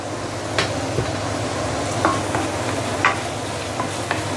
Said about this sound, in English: continue saute this for another couple of minutes, then it is done